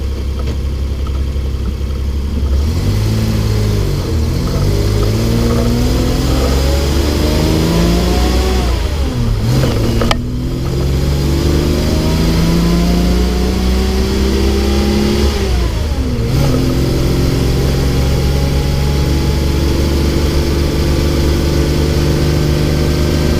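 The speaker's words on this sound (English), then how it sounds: "A very smooth riding truck, believe it or not." A truck engine runs loud and steady as it drives down the road, rising and falling through repeated revving gear changes, with no one speaking.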